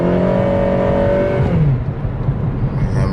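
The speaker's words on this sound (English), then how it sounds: "I'm gonna try and floor it now. And the RPMs are gonna rev higher than the speed that you're in." A turbocharged Honda Civic Si engine floored in fourth gear, droning loudly with strong harmonics that dip and shift as the revs change, heard from inside the car.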